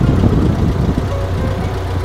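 A Ford Model T engine runs steadily near at hand, a continuous low, rough idle with a knocking, chugging texture and no pauses, heard alone with no talk.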